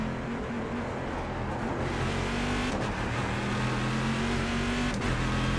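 Race car engine in the iRacing sim racing game, an older spec of car, droning steadily at high revs with a couple of quick shift dips, loud and continuous from the cockpit with no voices.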